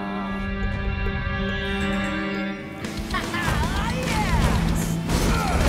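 Cartoon monster trucks smash through old junk, a loud crashing impact arriving midway over a continuous musical score, with busy clattering debris following.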